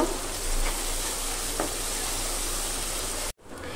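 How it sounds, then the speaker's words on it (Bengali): Onion masala with turmeric and chili powder fries in a pan, a close hissing sizzle with a couple of soft stirring scrapes before it cuts off abruptly. "এখন আমি হলুদের গুঁড়া আর মরিচের গুঁড়া দিয়ে দিব, একটু বেশি দিব যাতে ঝাল ঝাল হয়। আবারও কষিয়ে নিব।"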